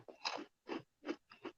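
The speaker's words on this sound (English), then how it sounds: "he'll hear me crunching" Hot Cheetos crunched up close in four crisp, separate bites with short pauses between them, quiet and with no talking.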